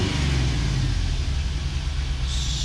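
A 1991 first-generation Chevy S10 with a swapped-in 5.3 liter LS V8 idles with a deep, steady rumble, close and loud, holding constant throughout with no talking.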